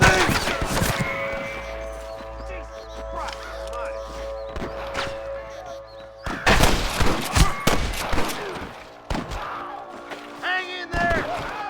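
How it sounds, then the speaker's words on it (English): Gunfire in Red Dead Redemption, with sharp shots scattered through the scene and a dense burst of several in quick succession partway through, mixed with game sound effects and footsteps. "I can hear more gunshots."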